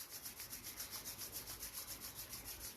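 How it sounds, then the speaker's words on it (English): Palms rub briskly together during a yoga breathing practice, a soft, rapid, rhythmic swishing of skin on skin, close and quiet, with no talk. "rubbing your palms together to generate some warmth"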